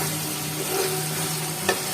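Ground spice paste going into hot oil for a vegetarian cauliflower curry gives a steady loud sizzle and frying hiss, with a faint clink of stirring near the end and no voices.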